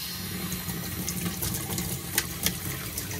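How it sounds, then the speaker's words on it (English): Hot water runs from a tap into a basement slop sink in a steady, close rushing stream with a few brief splashy spikes. "So I'm going to start by turning on the hot water."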